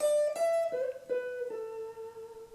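A short bluesy guitar phrase of a few plucked notes, one bent and sliding downward, ringing clearly with no talking.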